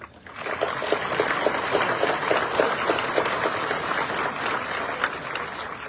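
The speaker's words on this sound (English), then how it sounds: "A sincere thanks to each of them and a deserved round of applause, please." Steady applause from a room full of people at a high school graduation ceremony, many hands clapping at once for several seconds, fairly even in loudness throughout.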